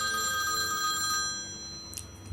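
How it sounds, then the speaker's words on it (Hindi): A telephone bell rings with a steady electronic trill, fairly clear and alone, fading out as a louder thump cuts in at the end. "सैटरडे को करीबन 2 बजे 3 बजे एक फ़ोन की घंटी बजे।"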